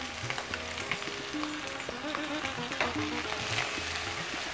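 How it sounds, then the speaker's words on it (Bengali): Coconut milk hits a hot frying pan for sor malai pulao, giving a loud, continuous sizzle and crackle with light stirring throughout, no voices. "এবারে নারকেলের দুধটা একটু দিয়ে দেবো।"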